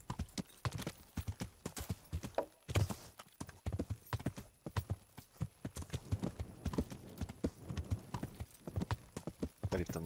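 Steady clip-clop of horse hooves trotting on a hard surface in the video game Kingdom Come: Deliverance, close and rhythmic throughout, with no talking.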